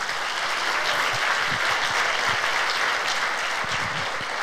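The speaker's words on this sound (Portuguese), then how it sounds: "Vamos dar um aplauso a Jesus?" Church congregation applauding during a Sunday service, a steady, dense wash of clapping that fills the whole stretch without pause.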